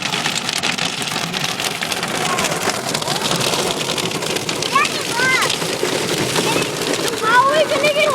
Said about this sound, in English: just getting pelted by hail right now